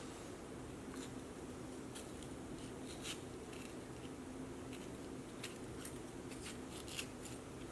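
Sweet peppers being cut with a knife, quiet crisp slicing snaps and scrapes scattered over a faint steady background hum.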